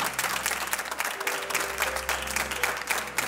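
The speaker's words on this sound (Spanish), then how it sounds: "¡Un aplauso! ¡Un aplauso!" An audience on a television talk show claps in a steady, rhythmic way, the clapping moderately loud and close, with a low hum underneath and a faint tone partway through.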